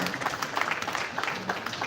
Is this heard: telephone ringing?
no